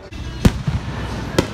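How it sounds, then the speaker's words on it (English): Fireworks bursting at a carnival at night: two sharp, loud bangs roughly a second apart over a low background hum of the crowd and rides. "Fireworks are going off!"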